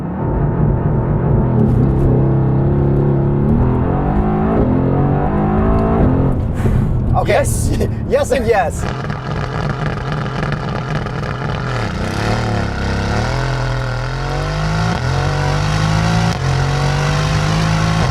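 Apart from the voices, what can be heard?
sports car engine with titanium muffler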